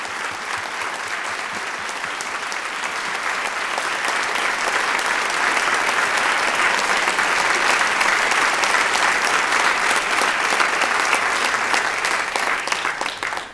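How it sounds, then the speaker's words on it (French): Sustained applause from a large audience at a launch evening in the Salle Pauline-Julien, steady and dense throughout, swelling slightly in the middle before tapering at the end. "une très bonne main d'applaudissements"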